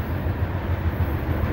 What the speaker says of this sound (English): It's a unit loaded grain train.